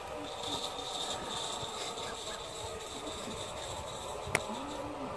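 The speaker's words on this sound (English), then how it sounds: "Now we have real steam trains." A live steam model locomotive at the Onehouse miniature railway operating weekend gives a quiet, steady hiss and rumble, with a brief faint squeal near the end.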